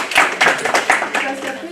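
A small group claps briefly at a youth association's founding assembly, a short uneven burst of close, sharp claps mixed with voices.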